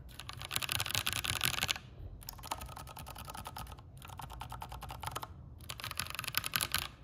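Close typing on a Keychron Q6 mechanical keyboard, brisk dense clacking in bursts of about two seconds separated by short pauses, quiet overall and with no voices.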